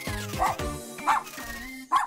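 A cartoon robot dog yips and barks in a few short, bright bursts, with a synthetic tone ringing between them in an animated scene.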